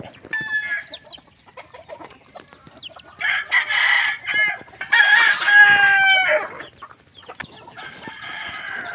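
Backyard chickens cluck while being fed, with a rooster crowing in several loud, drawn-out bursts at close range against an otherwise quiet farmyard.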